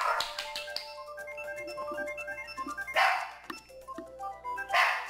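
Several dogs bark repeatedly in overlapping bursts, with bright tonal music playing steadily underneath throughout.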